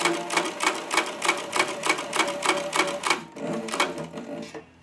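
A Cobra Class 26 leatherworking sewing machine stitching leather with very wide stitches: a loud, steady mechanical clatter of evenly repeating strokes, about three per second, up close, then winding down and stopping near the end.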